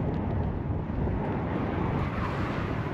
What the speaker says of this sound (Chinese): 这横风吹的，这还好是逆风。